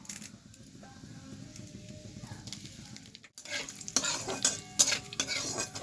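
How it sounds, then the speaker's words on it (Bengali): Whole cumin and bay leaf hit hot mustard oil, a quiet crackle swelling into a loud, bright sizzle after a brief pause, with spoon scrapes and stirring clatter close by. "এবার আমি তেলের মধ্যে গোটা জিরে দিয়ে দিচ্ছি।"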